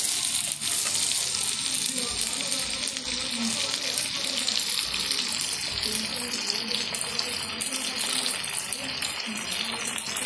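Ginger garlic paste fries in a pan for a koramenu fish pickle, giving a loud, steady, even hiss of sizzling oil that continues without pause.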